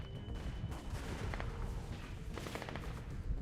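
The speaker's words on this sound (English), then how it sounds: "Because that was an AK." AK rifle fire in the adventure game The Walking Dead Season 2, a steady stream of sharp shots with bursts of rapid rounds, heard alone and moderately loud.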